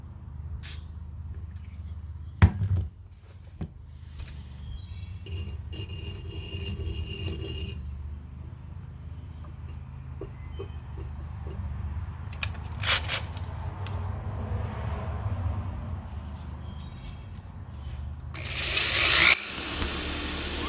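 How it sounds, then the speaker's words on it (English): A drill bores holes in metal for a panhard bar relocation on an FJ Cruiser, GX or 4Runner. The motor drones in a sustained, close whir for most of the clip, broken by a sharp knock and some metallic clinks. "So for about the next hour, we drilled and drilled and drilled and drilled some more."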